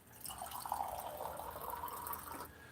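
Filtered Zero water pours from a jug into a drinking glass, a close, steady gurgling stream with a rising pitch as the glass fills, lasting a couple of seconds before stopping.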